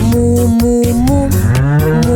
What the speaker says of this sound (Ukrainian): Корова каже му-му-му.